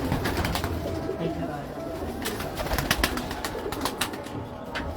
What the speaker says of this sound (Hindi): ज़बरदस्त कबूतर हैं